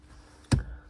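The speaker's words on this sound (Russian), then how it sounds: "Стояночный тормоз" Parking brake in a Ravon R2 being pulled on, a single short sharp ratcheting click with a low thud, close and fairly quiet against a hushed cabin.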